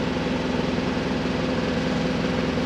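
A sailboat's motor runs while motor sailing, a steady low droning hum with a faint throb that stays even throughout, with no talk.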